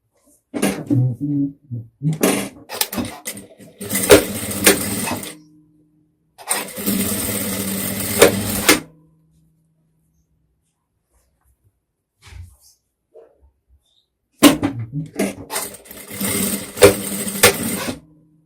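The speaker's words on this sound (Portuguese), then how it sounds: "vamos passar uma costura unindo aqui os ombros" A sewing machine running bursts of stitching to join the shoulder seams of a two-tone dress, loud mechanical whirring in several runs separated by silences, close up with no speech.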